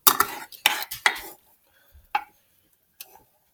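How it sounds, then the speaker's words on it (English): Potatoes mashed in a pot produce a few close, sharp clanks and scraping knocks of a utensil against metal in quick succession, then scattered fainter taps separated by quiet. "we still need to mash some of the potatoes"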